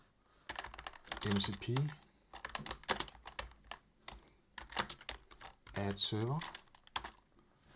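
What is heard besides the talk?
typing on a computer keyboard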